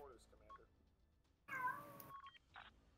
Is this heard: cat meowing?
yes